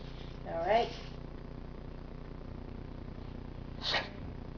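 Two short, harsh coughs from a cat, one around the first second and another near the end, with quiet room tone between them.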